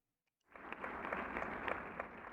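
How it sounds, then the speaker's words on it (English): Muffled applause from a crowd in the video game Beacon Pines, heard faintly as if through walls, fades in and holds steady for about two seconds with no speech. "A muffled applause resonated faintly through the walls."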